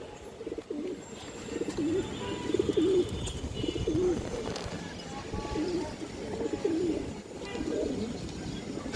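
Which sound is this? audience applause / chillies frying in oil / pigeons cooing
pigeons cooing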